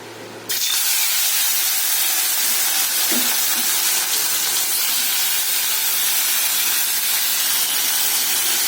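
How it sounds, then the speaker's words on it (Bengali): Fish, rubbed with turmeric, is dropped into hot oil and sets off a sudden loud, close, roaring sizzle. The hiss holds steady and dense for several seconds with no talk over it. "এদিকে এবার তেল গরম করেছি, মাছটাকে ছাড়বো।"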